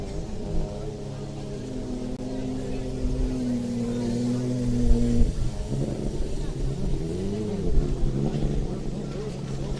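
Jet ski engines idle before a Pro-Am Ski GP race at a World Championship in Naples, Florida, a close mechanical drone with steady humming tones that shift and waver as throttles change.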